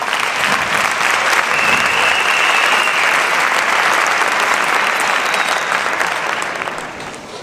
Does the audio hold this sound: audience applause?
yes